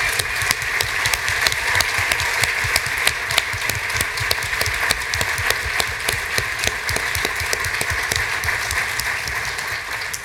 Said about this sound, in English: we owe those 36 people, in particular, a round of applause on behalf of all of us